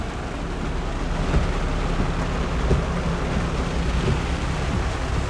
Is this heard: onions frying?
no